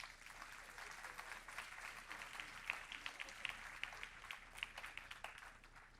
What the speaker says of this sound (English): let's give Dignity Health and Ina Tucker Westby a big round of applause